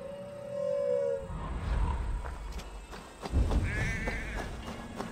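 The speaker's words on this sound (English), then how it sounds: "That sounds like a sheep, and not a happy one." A sheep bleats in distress in Assassin's Creed Valhalla, a wavering high cry, amid shuffling footsteps and rustling movement in a game-like scene.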